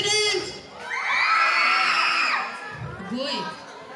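Grade 9 students at a school activity cheer and shout together in a loud, sustained burst of crowd noise that peaks midway, eases off, then swells again.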